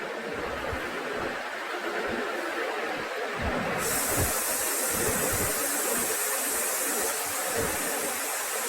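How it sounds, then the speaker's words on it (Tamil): Ginger, garlic, green chili, mint and coriander sauté in hot oil in a pan, making a steady close hiss and sizzle with faint stirring scrapes underneath and no talking. "இஞ்சி பூண்டு நல்லா எண்ணெயில் வதங்கினதுக்கப்புறம் பச்சை மிளகாய், புதினா, மல்லி சேர்த்து நல்லா வதக்கி விட்டுக்கலாம்."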